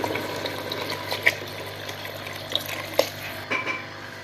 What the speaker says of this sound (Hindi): तो अब हम इसमें पानी डालने लगे हैं।